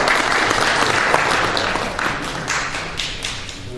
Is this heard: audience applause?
yes